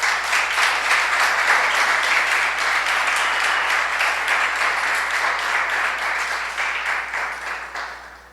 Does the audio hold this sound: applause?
yes